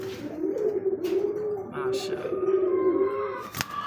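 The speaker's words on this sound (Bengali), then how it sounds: "দেখেন ডাকতেছে ঘুরে ফিরে নর কবুতর এটা" A sky-blue Rajgolla male pigeon coos in a long, continuous throaty drone that swells and dips, with a brief voice and a sharp knock near the end.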